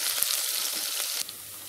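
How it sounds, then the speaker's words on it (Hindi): Onions fry in a pan with garlic, making a dense, even sizzle that suddenly drops to a softer hiss near the end of the short stretch. "ये देखिए फ्रेंड्स, हमारी प्याज अच्छे से भून चुकी है।"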